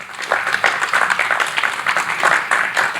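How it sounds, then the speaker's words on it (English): An audience applauds a speaker after a presentation at a policy dialogue on EU-Malaysia relations, steady broadband clapping from a moderate crowd lasting throughout, fairly close and even. "So please join me again in a round of applause for him."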